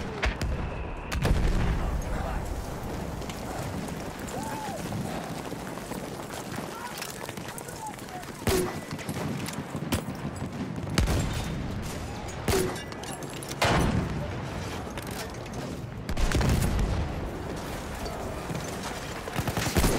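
Artillery and gunfire rumble across a Battlefield 1 battlefield: repeated heavy booms and sharp shots punctuate a dense, continuous din of combat noise, with voices heard among the blasts.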